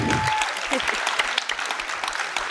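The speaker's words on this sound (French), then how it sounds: "On peut l'applaudir." An audience at a round-table event applauds a 94-year-old nursing home resident, brisk close clapping from a small group lasting the whole span after a brief tone at the start.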